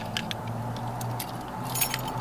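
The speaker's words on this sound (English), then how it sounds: "Yes, I have way too many dad blasted keys." A large bunch of keys jangles lightly and briefly nearby, with small metallic clinks over a steady low background hum.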